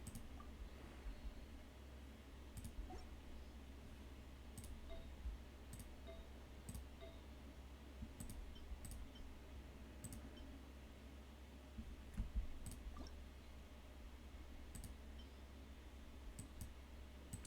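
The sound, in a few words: mouse clicking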